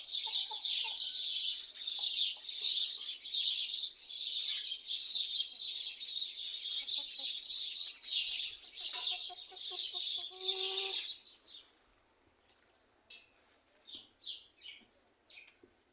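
Chickens cluck and a rooster calls close by amid chirping birds, the busy chatter lasting about eleven seconds before the yard falls mostly quiet, leaving scattered faint chirps.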